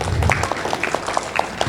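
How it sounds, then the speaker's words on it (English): A short burst of applause from a small group, steady clapping with no voices over it. "Round of applause for that example."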